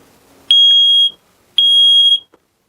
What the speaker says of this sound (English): put in a smoke alarm.